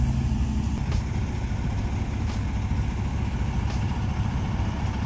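A truck engine rumbles steadily nearby, a dense low drone holding at an even level with a few faint higher clicks over it.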